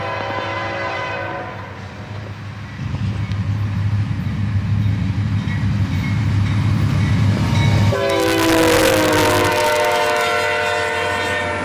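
CSX northbound freight train led by a Dash 8 with an SD40-3 rebuild trailing, engines rumbling closer before a loud, sustained horn blast sounds near the end, over steady low locomotive drone.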